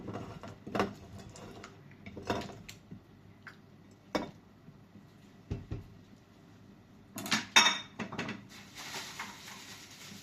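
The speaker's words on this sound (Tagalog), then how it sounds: "Lagay po natin ang ating labanos." Pieces of radish go into a pot of beef soup with scattered soft thuds and clinks, then a louder splashing clatter near the end, all close and fairly quiet.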